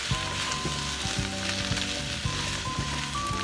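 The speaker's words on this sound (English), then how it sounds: "Let's add a bell pepper. Add a little bit of salt and stir fry for another minute." Bell pepper with a pinch of salt is stir-fried in a pan for Kung Pao chicken, giving a steady loud sizzle with rhythmic scraping and stirring strokes throughout.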